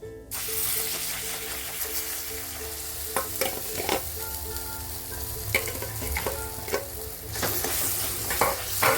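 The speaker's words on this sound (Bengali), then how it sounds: "দিয়ে ভালো করে নাড়াচাড়া করে বানিয়ে নিতে হবে।" Ground dal with asafoetida stirred in a frying pan over a low gas flame, with a spatula repeatedly scraping and knocking against the pan over a steady sizzle, close up and with no talking.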